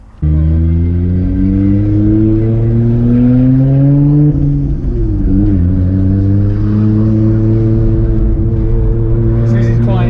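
A 650-horsepower Nissan Skyline R34 GT-R accelerating hard from inside the cabin, a loud deep engine note climbing through the revs, easing briefly at a gear change, then pulling again.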